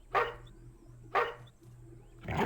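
A dog in the video game Rosewater barks three times in quick succession, each bark sharp and near, with a low steady ambient hum underneath and no talk.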